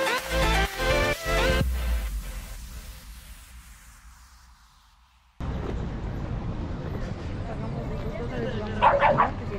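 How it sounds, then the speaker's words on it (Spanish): Two dogs fight beside a lagoon, with yelps, growls and barks that fade, then return loud against a steady outdoor background; people talk at the start. "lo primero que podemos observar es una pelea entre dos perros"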